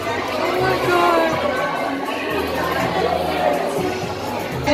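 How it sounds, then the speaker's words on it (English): A huge crowd gathered outside an Etude House store makes a dense, steady hubbub of overlapping chatter with occasional louder shouts, and nearby voices speak over it throughout. "If you're wondering why there's a huge crowd out there today"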